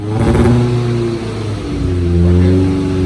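A supercharged Integra engine revs hard while misfiring, a loud, close, rough snarling tone that rises and dips with choppy, uneven pulses over a few seconds.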